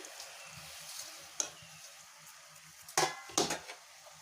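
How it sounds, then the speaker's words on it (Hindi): Roasted semolina and gram flour are stirred in a pan for barfi: a spoon scrapes and knocks against the pan three times, with two sharp scrapes close together near the end over a quiet background. "अब इसको अच्छे से मिला दूँगी।"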